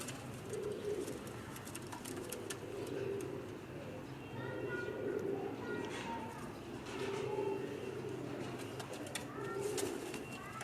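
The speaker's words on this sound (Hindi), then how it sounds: "एक शर्मीला कबूतर आपको शो करवाता है।" Pigeons cooing at a pigeon club in Gujranwala, a repeated low soft coo pulsing every couple of seconds, with a voice talking over it and scattered higher bird chirps.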